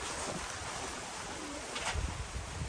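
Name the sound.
strong cold wind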